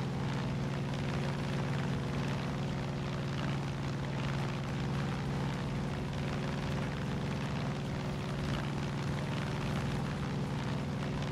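An aircraft flying in the shooter game Far Cry 5, a constant loud droning engine roar that holds steady throughout without speech.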